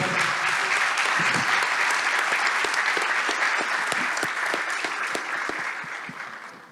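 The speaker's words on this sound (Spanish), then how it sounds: "un aplauso" Sustained audience applause in a public university event in Bucaramanga, a dense, loud wash of many hands clapping that holds steady and slowly fades toward the end, with faint voices underneath.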